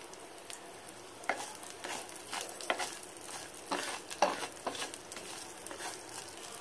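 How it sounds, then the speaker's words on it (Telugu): Garlic cloves fry in hot coconut oil for a tempering, giving a soft, steady sizzle with sharp clicks and scrapes from a spoon stirring the pan at close range, no talk. "నూనె వేడయ్యాక తాలింపు యాడ్ చేసుకుంటున్నాం. దాని కోసం వెల్లుల్లి రెబ్బలు కొన్ని వేసాము."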